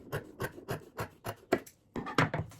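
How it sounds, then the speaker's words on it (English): Excess fabric on a quilted zipper pouch is trimmed in a quick run of soft, rhythmic snipping and rubbing strokes, close and quiet. "you need to trim this excess bulk so it lays flat"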